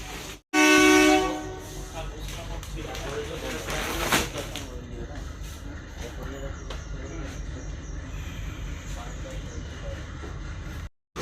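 An Indian Bangriposi–Bhubaneswar intercity superfast express runs with a steady rumbling clatter of wheels and carriages, opening with a short loud horn blast, with faint voices inside the coach.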